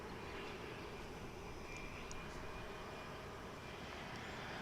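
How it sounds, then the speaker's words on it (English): An American Eagle Embraer 175LR jet arriving at DFW airport gives a faint, distant, steady engine rumble over outdoor airport ambience, without a clear approach or pass-by. "there's another American Eagle flight coming in. This will be a Embraer 175LR coming in from Baton Rouge in Louisiana."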